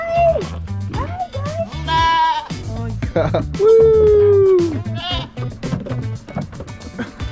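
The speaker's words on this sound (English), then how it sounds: "So we got baby doll sheep, regular sheep" Several sheep, including baby doll sheep, bleat repeatedly nearby, overlapping wavering cries, while a person whoops and people talk in the background.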